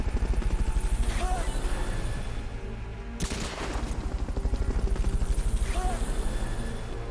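The Fulton recovery helicopter in Metal Gear Solid: Peace Walker gives a steady, loud rotor thumping that pulses throughout, with a sharp burst of noise partway through.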